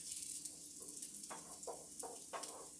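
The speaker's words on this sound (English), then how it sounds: "I'm not just sauteing these, I'm browning them up some" Garlic browning in a pan for shrimp scampi gives a steady soft sizzle with a few brief louder crackles or stirring scrapes, heard alone at low level.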